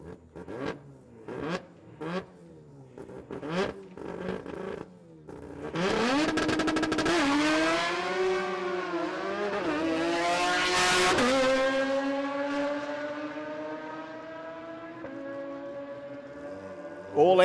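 Drag race car at the Brisbane Jamboree with a naturally aspirated engine: a few short revs, then a loud, raspy full-throttle run that climbs steadily with some wheel spin, close and continuous before easing off.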